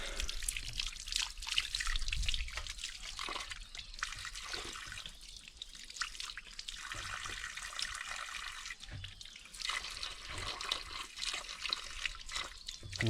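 Unfiltered drinking water runs from a village water source in Nuwakot, Nepal, a steady trickle and splash with brief louder gushes, heard close up.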